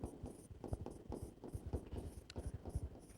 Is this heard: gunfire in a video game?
no